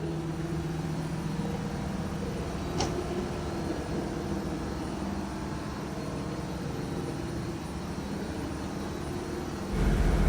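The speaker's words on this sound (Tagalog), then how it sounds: "Ito naman guys yung makina ng ating barko" Steady, loud mechanical drone of a fishing ship's engine running continuously in the engine room, a deep constant hum filling the space with no talking.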